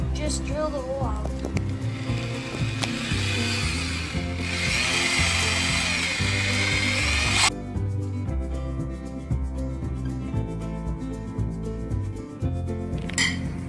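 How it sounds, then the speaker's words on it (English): A power drill bores a hole through reclaimed pallet wood for a birdhouse, a sustained whirring grind for several seconds that stops abruptly, followed by quieter handling sounds. "And then just drill the hole out."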